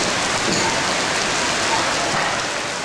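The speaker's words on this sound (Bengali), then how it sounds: "জলপাইগুড়ি সহ ডুয়ার্সে এদিন সকাল থেকে প্রবল বৃষ্টি হয়" Heavy, steady rain pours over Jalpaiguri and the Dooars region of North Bengal, a dense, continuous hiss of drops hitting surfaces that stays loud and even throughout.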